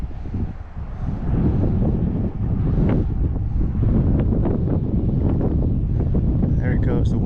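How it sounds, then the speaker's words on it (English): Gusting wind buffets an open boat out on Everglades water during fishing, a steady loud roar of wind across the microphone with faint water movement underneath, and a person speaking over it. "The wind is taking it"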